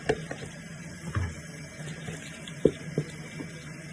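Ugu leaves being washed in water for a vegetable stew, with scattered soft splashes and sloshes at irregular intervals over a quiet background, no talking.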